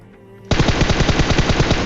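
Sustained automatic gunfire from a battle royale shooter game, fired while taking down an enemy at a military base warehouse: a loud, close, rapid burst of steady shots that starts abruptly and continues without pause.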